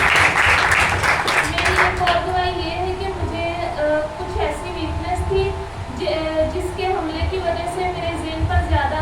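A church congregation breaks into a loud burst of clapping that fades after about two seconds, giving way to sustained, steady keyboard-like music.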